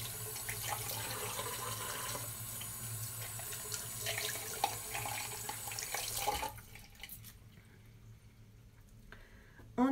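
Water from a bathroom tap runs steadily into a sink while skincare product is rinsed off, a continuous close splashing that stops after about six seconds, followed by faint drips and quiet movement.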